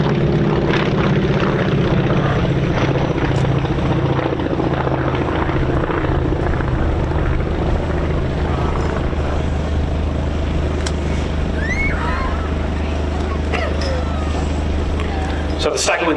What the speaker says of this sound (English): they have a very distinctive engine note due to the unusual exhaust arrangements